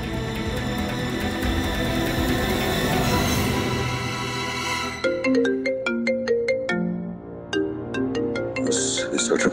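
A phone ringtone plays loud and clear, a repeating electronic melody of sharp bright notes that continues alone after swelling music fades out, for an inspector's incoming call.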